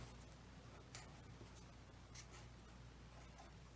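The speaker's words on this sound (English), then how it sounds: "I'm going to take my marker and my popsicle stick, and I'm going to write peas on mine." A marker drawn across a wooden popsicle stick to label a plant marker gives faint, dry scratching strokes in short bursts over a quiet background, with no talking.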